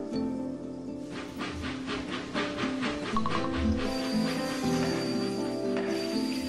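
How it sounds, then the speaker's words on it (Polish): A train departs in the railway game Next Stop 2, with rhythmic chuffing and steam hiss building into a steady rumble and a sustained whistle-like tone. "To tak, odprawiamy pociąg"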